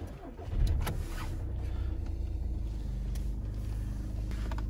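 A VW Passat B6 V159 servomotor running as the Climatronic ventilation is switched on, a steady low electric motor whir heard up close inside the car, with a few faint clicks over it.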